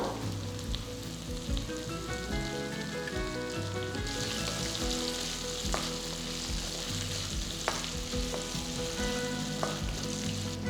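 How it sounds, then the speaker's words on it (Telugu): Curry leaves dropped into hot oil for tomato bele bath, a hiss that grows brighter and stronger partway through, heard beneath steady background music. "నెక్స్ట్ దీంట్లో నేను కొంచెం కరివేపాకు వేస్తున్నాను"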